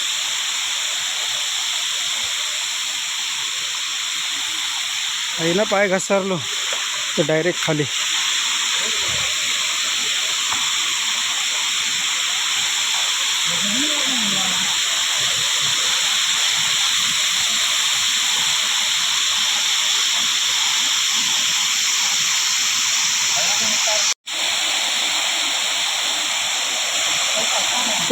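A waterfall at Harkul Khurd in the Konkan countryside roars steadily, loud and close, a continuous rushing wash of water that runs the whole time, with a few short bursts of a person talking over it.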